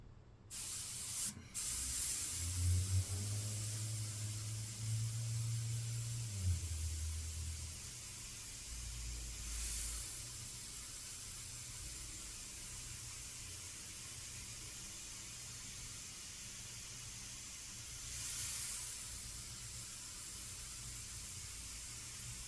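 Airbrush spraying paint, comparing a Takumi and an Evolution .15, as a long steady hiss with brief louder bursts. Soft low knocks are heard near the start.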